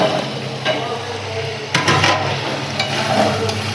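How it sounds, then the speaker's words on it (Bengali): Potatoes tipped into a frying pan with a large pond-caught fish and stirred, a steady close sizzle of oil with scraping stir strokes, a louder burst of frying partway through. "নাও, এবার এর মধ্যে আমি আলুগুলো দিয়ে দিচ্ছি।"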